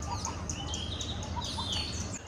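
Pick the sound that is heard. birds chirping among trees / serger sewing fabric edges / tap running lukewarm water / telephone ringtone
birds chirping among trees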